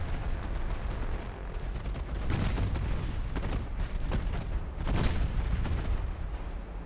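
Naval artillery fire and shell explosions boom in a battleship game, a dense barrage of overlapping heavy blasts with several sharper loud reports, continuous and close, with no talking.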